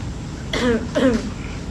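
A voice imitates an old man's cough: two rough, throaty coughing bursts in quick succession, fairly loud and close.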